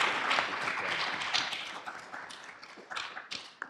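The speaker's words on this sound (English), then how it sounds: "Please join me in giving Professor Galvin a loud applause." An audience at a university welcoming address on the Vietnam War anniversary breaks into sustained applause, dense clapping that gradually thins out.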